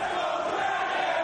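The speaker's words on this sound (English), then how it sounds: "And listen to this crowd." A pro wrestling arena crowd roars during an ROH match between Homicide and Bryan Danielson, a dense, loud, continuous swell of many voices chanting and shouting.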